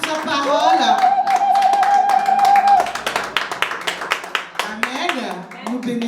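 A church congregation applauding during worship, a burst of quick, uneven hand claps following a long sustained voice, with voices continuing over the clapping.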